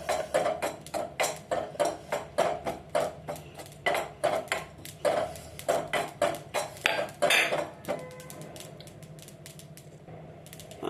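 Dry fruits roasting in a pan on a low flame for a village-flour rabdi, stirred in a steady rhythm of scraping and rattling strokes about twice a second, then settling into a quieter hiss.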